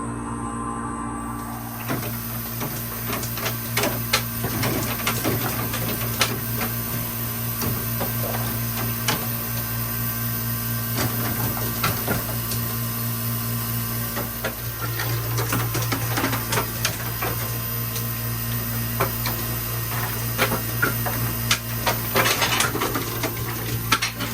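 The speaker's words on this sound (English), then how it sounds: "I'm circulating a bunch of ice machine cleaner through here right now." A filthy Cam 900 MRH remote 900-pound ice machine runs with cleaner circulating through it, giving a steady mechanical hum and pump drone with scattered clinks and rattles, continuous and fairly close, with no talking.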